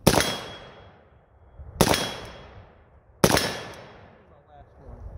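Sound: SLR-107R AK-47 rifle gunshots

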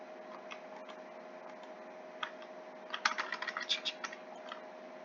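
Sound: computer keyboard typing noise

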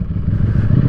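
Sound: Ducati Streetfighter V4S motorcycle engine

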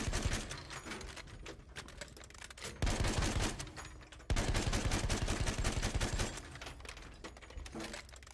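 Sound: gunshot from a rifle in the video game Battlefield 1

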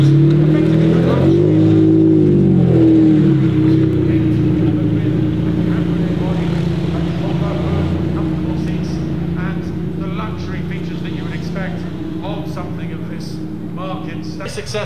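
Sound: 1938 BMW 328 Sport Cabriolet driving past

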